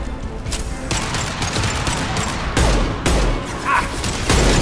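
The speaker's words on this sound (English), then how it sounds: "Firing concussive shot." Gunfire and explosions in the video game Mass Effect 2, including a concussive shot, a dense, loud barrage of overlapping blasts and booms with heavy thuds throughout.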